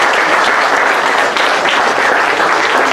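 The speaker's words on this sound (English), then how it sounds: "a big round of applause" Audience applause at a presentation on a coffee-capsule recycling project in Mauritius, dense and loud clapping that holds evenly for three seconds with almost no talk over it.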